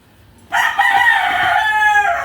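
A rooster crows loudly and close by, one long drawn-out call with rising and falling notes that holds steady to the end.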